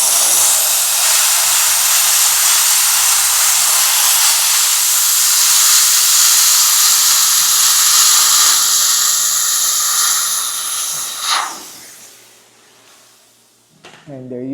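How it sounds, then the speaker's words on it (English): A handheld steamer blasts hot steam onto adhesive stuck to car paint, a loud, steady rushing hiss lasting about eleven seconds before tapering and stopping, followed by quieter handling noise and a brief voice at the end. "Just like that, with a steamer, we were able to remove that."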